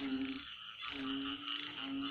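Frogs and toads croaking at night along a rural fence line in Vietnam, a loud, steady chorus of buzzing, pulsing calls that pause briefly and resume, close by and uninterrupted by talk.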